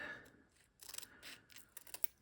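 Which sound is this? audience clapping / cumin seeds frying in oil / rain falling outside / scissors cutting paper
scissors cutting paper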